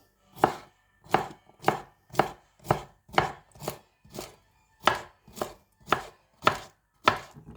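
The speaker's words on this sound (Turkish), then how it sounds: "salatalık bunu marulun içine doğrayacağım" Steady knife chops slicing cucumber on a cutting board, about twelve crisp evenly spaced strikes, close and clear with no talking.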